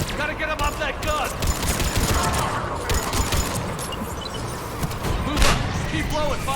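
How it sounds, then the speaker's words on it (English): Gunfire in Mass Effect Legendary Edition, with dense overlapping shots and thuds in a loud combat scene, sustained throughout under shouted in-game voices. "Trooper on the gun, Shepard. Gotta get him off that gun"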